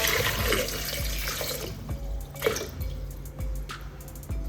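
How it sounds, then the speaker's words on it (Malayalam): Water pours into a metal pressure cooker for a moment, then trickles and drips more faintly. "കുറച്ച് വെള്ളം ഒഴിച്ച് കൊടുക്കാം."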